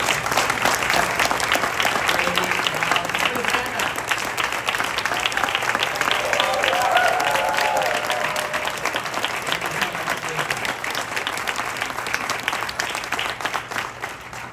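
An audience at a panel talk with actresses gives a long, full round of applause, dense and even at first, then slowly thinning toward the end.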